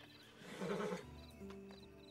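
A horse gives a short, moderately loud neigh and whinny, followed by softer snorting and shuffling, fairly quiet overall with no talking.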